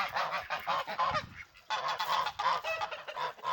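Geese honking continuously in a noisy, overlapping flock, loud and close, with a brief lull partway through before the calling resumes.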